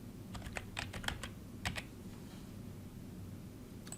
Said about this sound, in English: I'm going to type in forensics.